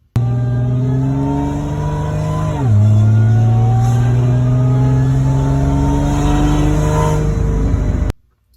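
A supercharged Ford Thunderbird Super Coupe engine with a Magnum Powers MPx supercharger revs hard and sustains a loud, rising whine, with a quick dip in pitch before climbing steadily again, close and continuous.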